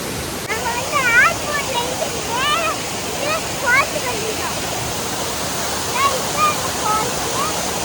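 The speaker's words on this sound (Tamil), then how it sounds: "பாருங்க அருவி எப்படி இருக்குது." Steady roar of a waterfall fills the scene, with voices calling out faintly and intermittently over the rushing water.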